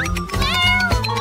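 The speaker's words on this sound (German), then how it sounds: "Und zwar diese flauschige Katze." A fluffy cat gives one drawn-out, loud meow close by, a clear rising and falling wail lasting about a second.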